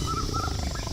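A tiger roars as a sound effect in a Thai audio ghost story, a brief, continuous, loud growling roar that fills the whole second with no talk.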